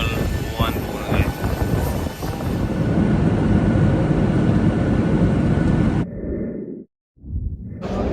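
An airliner waits at an airport before boarding for a flight from the UK to Albania. Its loud, steady engine roar fills most of the clip before cutting off abruptly near the end, with brief voices over it.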